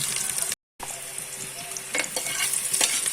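A tempering of mustard seeds, greens and onion sizzles in hot oil for Tulunad-style chicken curry, a steady close frying hiss with stirring scrapes and a brief dropout near the start.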